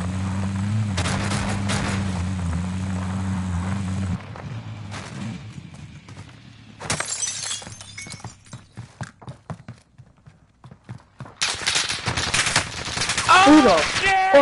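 Gunfire in a shooter video game comes as scattered sharp cracks and quick bursts of shots, some close and loud, others thinner, following a stretch of low droning hum.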